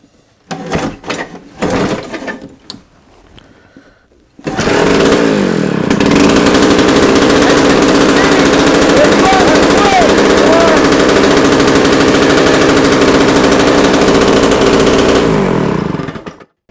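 Quadra 950 T2S with Tecumseh two-stroke engines, a few sputtering pull-start attempts, then a loud, continuous, buzzing roar that holds steady for more than ten seconds before cutting off.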